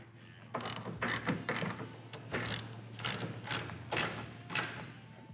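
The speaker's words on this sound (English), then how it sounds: "we're gonna take our 17 millimeter and tighten this down" A 17 millimeter wrench tightening a bolt on a glass folding windshield of a Kawasaki Mule, heard as a close series of rhythmic ratcheting clicks and metallic taps in repeated bursts.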